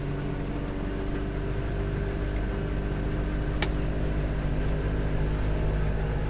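A Mercury 90HP two-stroke outboard runs under light throttle on a 2005 Duckworth Advantage boat, a steady, loud engine drone with a continuous hum that stays even throughout, no voices.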